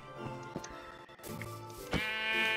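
Several sheep in Minecraft bleat in short, nasal calls over a steady backdrop of game music, with the loudest bleat near the end.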